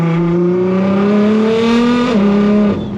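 A Nissan GTR pulls hard under full acceleration, its engine note climbing steadily and loudly from inside the car, with a brief dip at a gear change before rising again, no talking.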